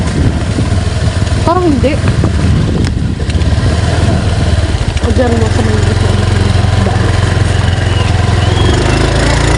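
A motorcycle engine idles steadily nearby on a rainy-day visit to a house, a constant low rumble that grows heavier partway through, with people talking over it.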